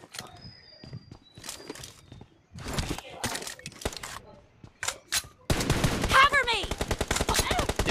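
Gunfire in the battle-royale game BGMI, a dense burst of rapid automatic shots near the end after scattered single cracks and footsteps, loud and close, under players' talk.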